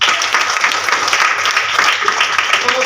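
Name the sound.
applause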